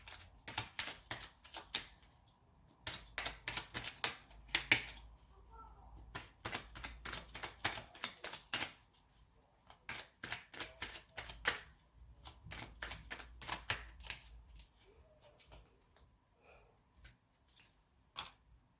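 Tarot cards being shuffled and drawn on a table, quick bursts of crisp riffling flicks and taps separated by short pauses, close and fairly quiet.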